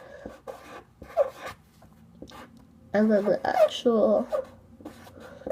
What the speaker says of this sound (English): taking my Sharpie along with a blank piece of paper and just writing the month the budget is for